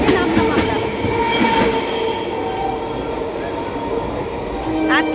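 Ambient rumble of a train at a station in Kanchrapara just after passengers step off, with steady low noise, faint metallic squeals and people talking nearby.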